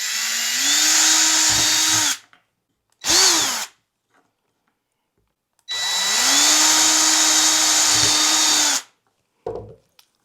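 A power drill bores holes in a solid lid in separate bursts: two long whirring runs with rising motor pitch and short trigger blips between them, close and loud, with silence in the gaps.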